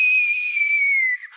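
A voice whistles a single soft, steady tone, imitating a gentle, quiet whistle, held close and even for over a second before it trails off at the end.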